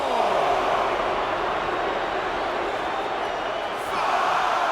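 A sold-out capacity wrestling crowd at BMO Field in Toronto makes a steady, dense roar that fills the stadium throughout, with a slight dip near the end before it swells again.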